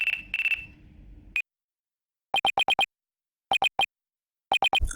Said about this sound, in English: it looks like I have a phone call.